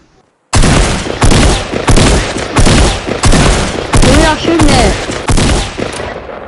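Rapid bursts of automatic gunfire in a PS4 video game, loud and close, firing in repeated volleys of about one second each with short gaps, continuous for several seconds.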